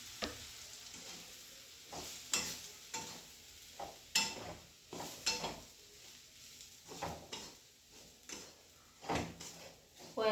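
Crumbled bhakri being stir-fried in a pan, a faint sizzle beneath repeated scraping and clattering strokes of a spatula against metal, irregular and close, with no talk.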